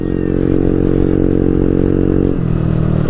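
Loud, steady drone of a modified TVS Ntorq scooter exhaust, a low rumbling tone held close throughout, briefly dipping in pitch near the end as the throttle eases.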